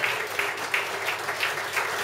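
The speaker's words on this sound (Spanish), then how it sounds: "fuerte el aplauso para ella." Steady applause from the audience at a folk music peña in Argentina, a dense, continuous wash of clapping that holds evenly throughout without any break.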